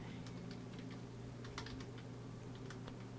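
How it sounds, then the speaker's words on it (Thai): Typing on a Windows 10 computer keyboard, a short run of quiet, quick key clicks in an uneven rhythm over a steady background hum. "พิมพ์คำว่า Internet Setting เข้าไปนะครับ"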